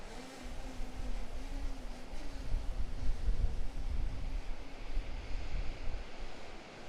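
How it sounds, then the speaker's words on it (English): Wind gusts buffet a beach as a DJI Mini drone flies overhead, a steady broadband rush with low rumbling swells and a faint hum, no voices. "You could hear the wind come in a little bit"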